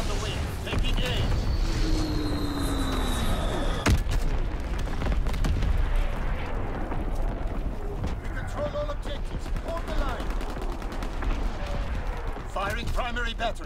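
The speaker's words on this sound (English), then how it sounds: "Enemy recon aircraft in the air. Firing primary battery. Target position confirmed. Explosion on the wing." Naval artillery booms and explosions from a Gibraltar battle in a shooter game, with dense heavy gunfire and mechanical clatter throughout while game radio voices speak over it.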